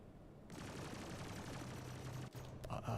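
A ship-launched missile in the space game Star Citizen roars out as a sustained, dense whooshing rush lasting a few seconds, with a brief dip and a sharper burst near the end, no voices over it.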